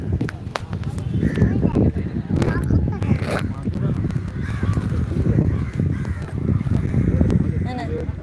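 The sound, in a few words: crow cawing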